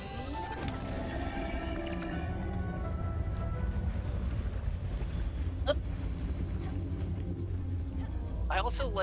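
Steady wind rushes over water as a sailboat glides along in the Spiritfarer video game, a continuous airy roar with a faint musical chime near the end and no talk.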